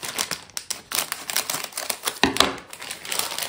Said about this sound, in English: Sorry if I'm making too much noise with the paper, the wrappers.